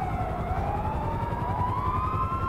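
A wailing police car siren in GTA V rises and falls steadily over a low rumbling background, continuous and fairly loud throughout.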